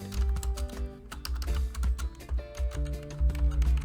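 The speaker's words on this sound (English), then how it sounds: "I will type it as red" Fingers type on a computer keyboard in quick, irregular taps, close and quiet, with no voices over the clicking.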